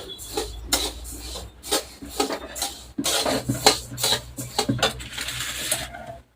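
Coconut and coriander seeds roasting in a metal pan for black masala, sharp clinks and scrapes of a spatula against the pan coming in irregular bursts, close by, with no talking.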